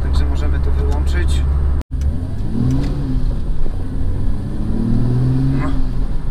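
A BMW Z1 engine runs steadily up close, a low even rumble with a brief dropout, while a person talks over it.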